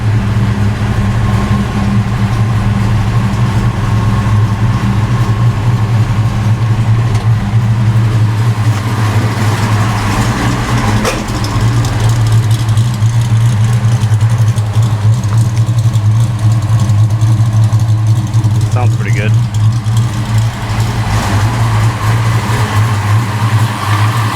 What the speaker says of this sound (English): Even on a cold start, it should be holding a steady high idle. And it's got that little surge going on.